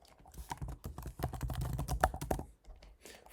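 Rapid keyboard typing on a computer while filling in administrator email fields of a web hosting setup form, a dense run of close clicks and keystrokes with brief pauses.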